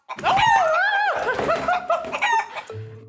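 A lively stray chicken found near Bondi beach lets out loud, close, rising and falling vocal calls over about three seconds, ending in a lower steady tone.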